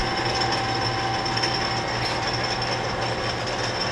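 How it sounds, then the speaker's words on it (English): A Hardinge DSMA automatic lathe threads and then cuts off a vintage Ford part, a steady close mechanical whir with a constant hum and light clatter throughout. "here's my nice Hardinge machine doing the last machining step, threading. And now the cutoff."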